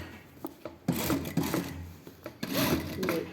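A sewing machine sews a stay stitch about two centimetres from a blouse neckline in two short, close runs of stitching, with light handling clicks in between.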